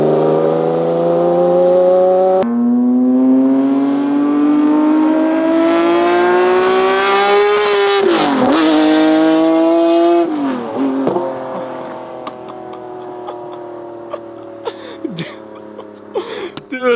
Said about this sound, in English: So now we're gonna see a flyby of the 50 and hear how amazing this thing sounds